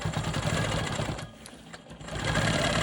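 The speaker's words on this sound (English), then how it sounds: "I'm gonna stabilize this triangle by stitching in the ditch" Quilting machine stitching in the ditch on a quilt block, a steady fast mechanical needle hum that briefly slows and drops before resuming at full speed, close and alone.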